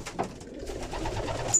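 Pigeons in a loft give soft, low, repeated coos close by, mixed with faint rustling and shuffling and no voices.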